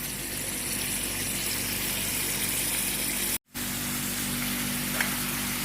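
Beef shank frying in hot oil, a steady, loud sizzle and bubbling crackle that briefly cuts out, then resumes with a faint hum beneath.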